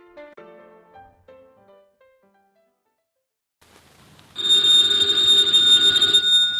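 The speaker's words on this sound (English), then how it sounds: "the ringing of that phone bell means adventure" After a few soft musical notes and a short silence, a loud telephone bell rings continuously in a Nero Wolfe radio drama, a bright metallic trill that fills the rest of the clip.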